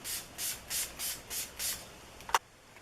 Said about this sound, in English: I'm just going to be using the Urban Decay Makeup All Nighter Setting Spray